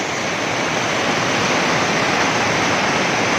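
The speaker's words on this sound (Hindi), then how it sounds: "देखिए कितनी स्पीड से आ रहा है पानी।" Water rushes down at a water-powered flour mill (pan chaki) in Samahni, making a loud, continuous broadband roar, close and steady, with no voices.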